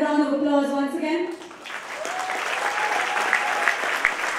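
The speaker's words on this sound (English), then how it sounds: "Ladies and gentlemen, a round of applause once again." An audience at an award ceremony breaks into applause right after a voice finishes speaking, and steady, fairly loud clapping from the crowd carries on for several seconds.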